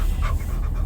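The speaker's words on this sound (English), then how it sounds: "That's my dog in the background, by the way." A dog pants quickly and steadily in the background, a soft breathy rhythm heard without any talk over it.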